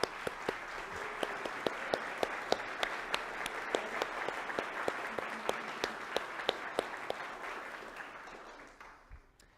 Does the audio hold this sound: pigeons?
no